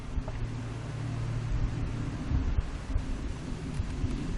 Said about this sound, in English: You can hear those workers just humming.